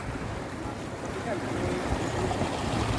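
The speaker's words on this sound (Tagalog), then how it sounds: "Lakas ng agos ng alon, lumalaki na." Rough sea waves with a strong, growing current surge and churn loudly and continuously, with gusty wind buffeting the microphone.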